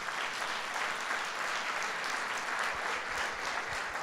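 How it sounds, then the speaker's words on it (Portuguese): Sustained applause from a church congregation during a Sunday service, dense steady clapping filling the whole stretch at an even loudness with no pauses. "dê um aplauso a Jesus"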